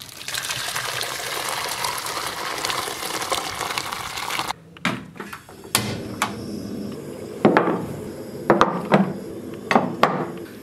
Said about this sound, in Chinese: 倒到火锅锅里